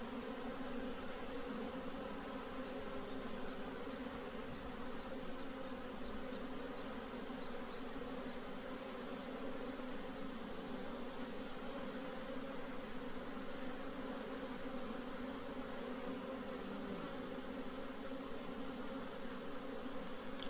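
A dense swarm of honey bees pours into a hive, drawn in by a captured queen's pheromone, making a steady, loud, continuous buzzing hum that fills the whole stretch with no voices.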